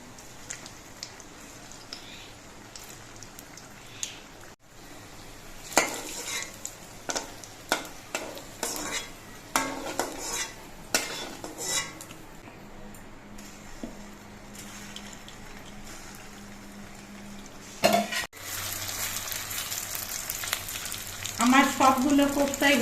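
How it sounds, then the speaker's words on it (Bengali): Papad koftas fry in hot white oil in a pan, with a steady sizzle and bubbling, intermittent stirring scrapes and utensil clinks against the pan, close and moderately loud. "আবার কয়েকটা কোপ্তা আমি দিয়ে ভেজে নেব।"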